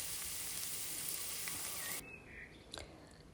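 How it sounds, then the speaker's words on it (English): Onions fry in a pan as they are stirred, giving a steady, close hiss of sizzling. Partway through, the hiss drops off sharply, leaving faint clinks and a quieter sizzle. "stirring the onions. They're cooking away"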